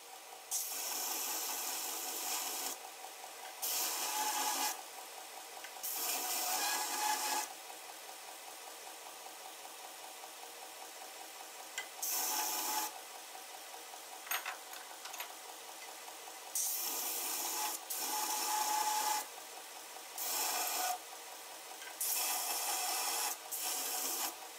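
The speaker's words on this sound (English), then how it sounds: "I'm going to sand this on my 2-inch belt grinder sander." Power sanding of a rough-cut MDF jig on a 2-inch belt grinder sander, a steady abrasive rasp that swells and drops as the piece is pressed on in repeated passes over a continuous motor whine.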